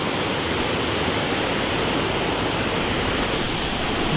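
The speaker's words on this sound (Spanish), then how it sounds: "Pero vamos a ver cómo está la cascada." Steady broadband roar of a waterfall reached on a fishing outing, loud and unbroken, a dense continuous rush of falling water with no voices over it.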